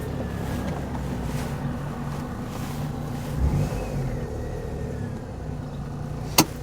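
A Perodua Kenari car being driven, heard from inside as a low steady engine drone with wind and road noise, rising slightly partway through, with one brief sharp click near the end.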